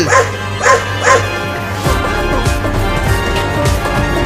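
A cartoon dog barks several times in quick bursts, then keeps up rapid, excited yapping and whimpering close by.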